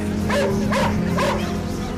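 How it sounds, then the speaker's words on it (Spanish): Three quick, excited dog barks in close succession, nearby and loud, with a steady low hum in the background. "Los perros ladran y jadean"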